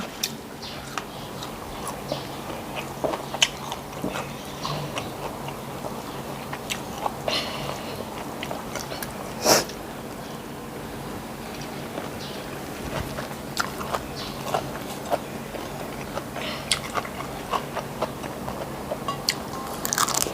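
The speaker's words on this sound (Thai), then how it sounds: "ขอกินข้าวกับปลา เผ็ดอร่อยไหม" Someone eats rice with spicy fish curry, making close crunching bites and chewing with irregular clicks and one louder crunch near the middle.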